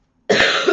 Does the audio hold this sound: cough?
yes